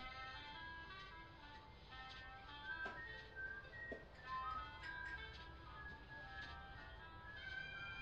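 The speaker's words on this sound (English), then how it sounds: "who's that whistling?" A faint, distant whistled tune plays as a sparse melody over soft ambience in the video game Bendy and the Ink Machine, with no voices.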